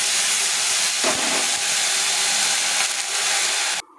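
Lentils (dal) dropped into a hot pan with ginger and chilli, giving a loud, steady, hissing sizzle that fills the whole stretch and cuts off sharply at the end.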